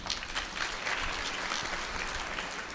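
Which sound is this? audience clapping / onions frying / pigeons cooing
audience clapping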